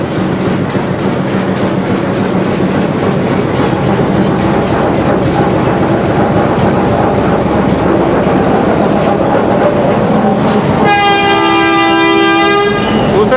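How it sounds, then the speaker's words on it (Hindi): Train at Golra railway station giving its departure whistle, a loud tonal horn blast near the end over continuous rumbling engine and platform noise. "दूसरा डिपार्चर विसल हो गया।"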